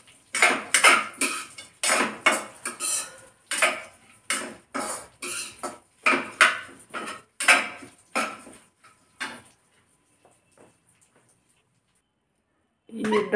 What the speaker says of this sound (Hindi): इनको हल्का सा भून लेते हैं,